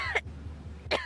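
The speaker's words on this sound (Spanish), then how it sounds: "la carraspera, pero es una tos seca." Two short dry coughs from a person with a lingering post-COVID cough, close and clear, separated by a quiet pause.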